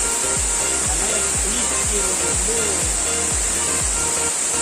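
A waterfall in the Sadhasivakona hills near Puttur roars down with force, a loud, dense broadband wash of pouring water close by, with rhythmic low thumps underneath throughout.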